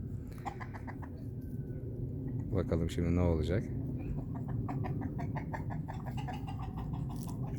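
Ornamental chickens and a rooster call faintly, with one louder squawk in the middle, while someone speaks close by in Turkish over the flock.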